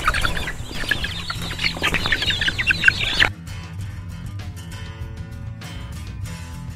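Chicken clucking during chick selection: a busy run of bright, close clucks and squawks for about three seconds while the bird is held, then a quieter stretch with fainter calls over steady background noise.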